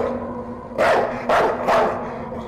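A man transformed into a dog barks in the video game Night People, three loud, close barks in quick succession over a low steady hum.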